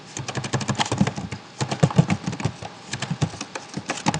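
Rapid, uneven clatter of computer keyboard keys close up as patient details are entered, with brief pauses between bursts of keystrokes and no talking.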